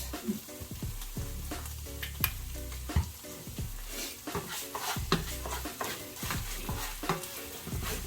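Honey garlic chicken sizzles loudly in a pan while a utensil stirs it, with repeated sharp scrapes and clinks against the pan over a constant frying hiss.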